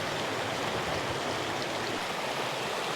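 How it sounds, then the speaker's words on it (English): A creek rushes steadily beneath a bridge crossing, with a small waterfall feeding a dense, continuous roar of flowing water that stays close and even throughout. "Look how that water is rushing though."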